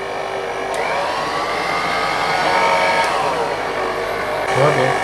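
An electric hand mixer beats ontbijtkoek cake batter at medium speed, giving a steady, loud motor whir that holds evenly throughout with slight shifts in pitch as the beaters move through the bowl.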